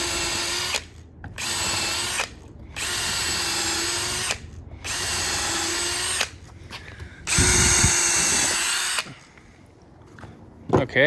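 DeWalt Atomic Compact Series cordless drill running a dull bit: a string of loud, close whirring bursts of varying length with short gaps, one run straining under load, then quieter clicks and handling noise near the end.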